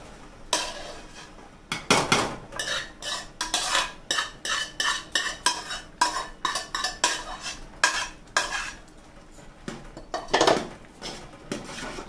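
Semolina being stirred in a pan while making Annavaram prasadam, repeated rhythmic scraping and clinking of a spoon against the metal pan, fairly close, over a faint sizzle.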